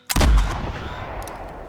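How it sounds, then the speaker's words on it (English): A single loud .45-70 hunting rifle shot in a video game cracks out and booms, then fades slowly in a long echoing tail. No voices. "That is a very nice sound to a rifle"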